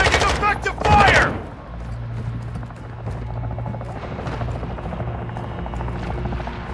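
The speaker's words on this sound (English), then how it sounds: "enemy attack helo is heading your way" An enemy attack helicopter in Call of Duty MW2 DMZ: a steady low rotor thrum runs throughout, opening with a sharp burst of gunfire, with faint voices underneath.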